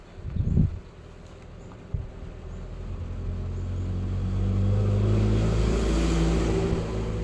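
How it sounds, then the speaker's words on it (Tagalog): Road traffic rumbles past on a wet road during a typhoon, building from a couple of brief thumps into a steady, loud engine and tire roar that stays close and continuous to the end. "Ang daming sasakyan anak."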